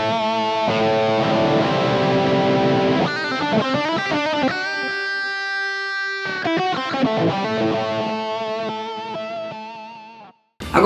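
Electric guitar through a Tube Screamer overdrive on a pedalboard, with reverb and delay after it, plays sustained distorted chords and ringing single notes that linger in wet echoes, loud and alone until a sudden cut near the end.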